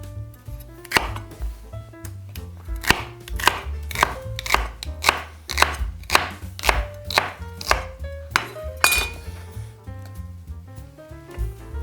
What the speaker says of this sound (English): I'm still going to cut them up into smaller pieces, about that size there